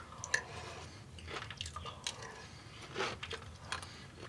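Someone chewing crunchy sweet potato Genmai Flakes cereal in milk, faint close mouth sounds with soft irregular crunches and wet squishes, no talk.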